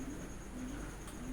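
Pet pigeons cooing softly in a low, steady murmur, faint under a constant background hum.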